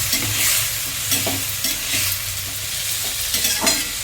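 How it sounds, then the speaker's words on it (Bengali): Boiled ivy gourd and potato cook in a poppy seed paste, giving a loud, close sizzle with repeated scraping stirs in an uneven rhythm and no voices. "এবার আমার সবজি যে সেদ্ধ করা ছিল কুঁদরোই আলু, সেটা এর মধ্যে ঢেলে দেওয়া হবে"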